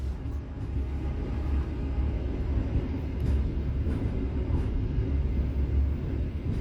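A Sancaka Utara business-class passenger train runs on the Gundi–Gambringan line toward Gundi station. Its heavy, continuous rumble of wheels on rails is heard from inside, steady and loud.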